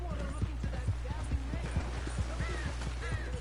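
Horse hooves clip-clop in Red Dead Redemption with a steady, even gait, close and rhythmic over a low hum, with a voice speaking faintly underneath.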